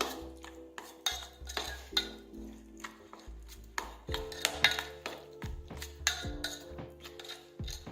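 A spoon mixing Schezwan chutney with lemon juice in a small bowl, with irregular clinks and scrapes against the dish, close and fairly quiet, no voices.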